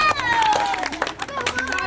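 Applause and crowd noise for Harshita, the winner of a luck game, with clapping and chatter under a loud, fluctuating voice across the short burst.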